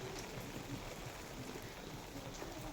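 Rain falling in a steady, soft patter, a faint, even hiss with no voices, during a day of mixed rain and sunshine.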